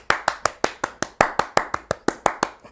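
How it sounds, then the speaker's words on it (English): Hands clap in a steady, even rhythm, about fourteen sharp claps close to the microphone with no talking. "So, claps."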